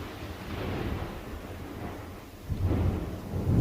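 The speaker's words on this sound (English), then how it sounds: "It's lightning and thunder and pouring down raining here in Florida." Thunder rumbles through a heavy Florida thunderstorm while rain pours down steadily, a low roll building and then swelling again with a louder, nearer crack partway through, with no voices present.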